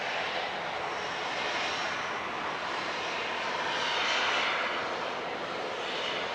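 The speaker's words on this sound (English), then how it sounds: "Royal Emirate departing to Casablanca now." A jet airliner departing Manchester Airport for Casablanca gives a faint, distant, steady engine rumble that swells slightly partway through.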